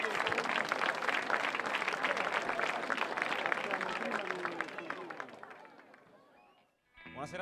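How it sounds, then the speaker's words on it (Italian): A crowd at a music contest applauds and cheers a band as it is introduced, loud dense clapping with some voices mixed in that fades away, followed by a short silence and then a faint new sound. "Fategli un applauso, grazie."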